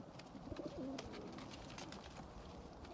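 A pigeon coos softly, a single rolling phrase against steady background noise, fairly distant and faint.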